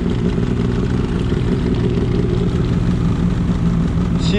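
A 2022 Ski-Doo Freeride 850 snowmobile engine idling outdoors in snow, a loud, steady, close rumbling drone with a slightly uneven burble throughout.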